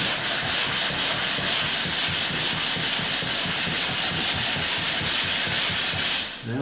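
A hand plane's sole being flattened by rubbing it back and forth on abrasive: a steady, rhythmic gritty scrubbing with quick even strokes, close and continuous, stopping just at the end, with no talk.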